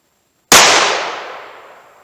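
A .38 Special Inceptor ARX round fired from a Smith & Wesson 686 revolver with a 4-inch barrel: one loud, close, sharp crack followed by a ringing tail that fades over about a second and a half.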